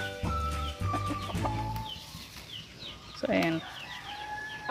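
Backyard chickens cluck and call close by while eating leaves offered as feed, a busy mix of short clucks and a brief squawk, with someone speaking briefly over them.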